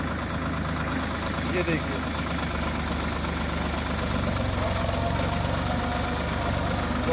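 A Swaraj 855 4x4 tractor, 2024 model, fitted with a cultivator, runs steadily after a gear change. Its engine gives a continuous, even drone throughout while someone talks over it.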